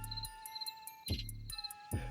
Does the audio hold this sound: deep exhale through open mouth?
no